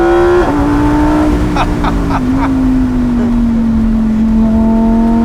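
Heard from close up, the V10 engine of a Lamborghini Huracan, making 531 bhp, roars loudly and continuously as it accelerates, its strained tone holding high with brief dips at gear changes, on a fast road.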